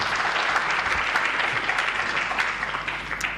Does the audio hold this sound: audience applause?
yes